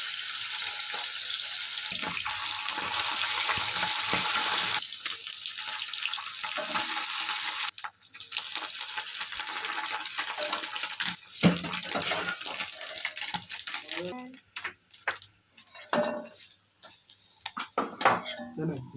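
Small chara fish frying in a pan in a home kitchen, with steady sizzling under clattering dishes, utensil clinks and running tap water throughout; no voices.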